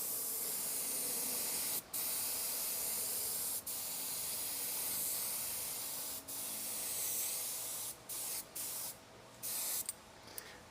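A spray gun lays a second clear coat onto car paint in a small repair, a loud continuous close hiss in long passes broken by brief pauses, with shorter bursts toward the end.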